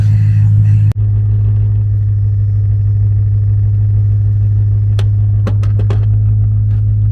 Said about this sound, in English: I have to do this with a very loud car running